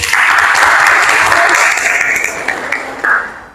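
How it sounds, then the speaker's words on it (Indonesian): A room of people applauds a group presentation, dense clapping that holds strong for a few seconds before thinning out, with a final small burst near the end. "Beri aplaus untuk kelompok 1."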